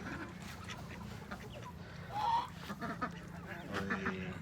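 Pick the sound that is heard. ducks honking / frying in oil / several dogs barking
ducks honking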